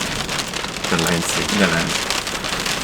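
Rain patters steadily on a car used as a bird-watching hide during heavy rain, a dense close drumming on the body and windows while someone speaks briefly over it.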